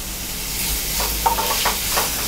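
Onions sautéing with a pinch of salt in a pan for prawn pepper masala give off a soft, steady sizzle with a few brief stirring scrapes near the end, close and moderately loud, with no voices.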